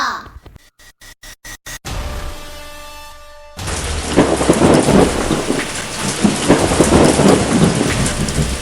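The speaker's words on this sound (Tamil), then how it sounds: "இப்போது மழை பெய்ய போகிறது." An animated short's thunderstorm: a series of sharp pulsed bursts, then a rising tonal swell, before a sudden crash of thunder gives way to loud, dense rain pouring steadily.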